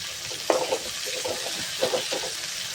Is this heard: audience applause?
no